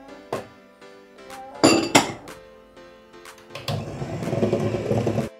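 Lemon yogurt cake batter being mixed in a bowl, with a utensil clinking and tapping against the bowl in a few sharp knocks before settling into a steady scraping, stirring sound.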